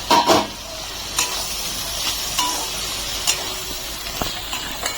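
Potato and pointed gourd sautéing with ground coriander, chili and turmeric in a pan, a soft steady sizzle broken by scattered scrapes and clinks as the spatula stirs, close by with no talking.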